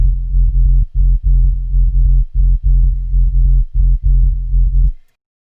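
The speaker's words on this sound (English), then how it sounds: "Nothing too exciting, but just kind of rumbling along and pumps underneath the leads." Reese-style sub bass synth from a Massive preset rumbles in deep, loud pulses that pump rhythmically with short gaps, then cuts off to silence.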